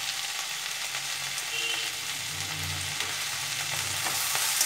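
Coriander powder stirred into onion stalks, potato and brinjal frying in a pan, a steady close sizzle with low scraping stirs now and then.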